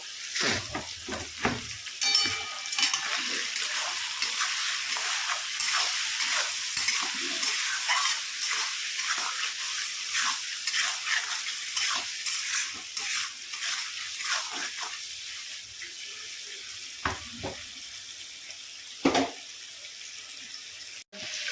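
Panch phoron sizzles with fish oil as it is sautéed, a continuous bright frying hiss with scraping stirs and occasional sharp clinks, close and loud throughout with no voices.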